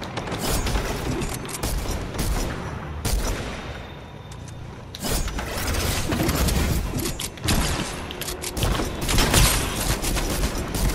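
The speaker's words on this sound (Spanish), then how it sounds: "Y de hecho me disparó, pero no alcanzó" Gunfire in Fortnite during a cowboy-themed match, with rapid bursts of shots and loud bangs coming in repeated volleys, broken by brief lulls and mechanical clicks.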